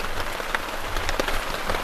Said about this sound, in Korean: 아, 빗소리도 같이 들리고 너무 좋다.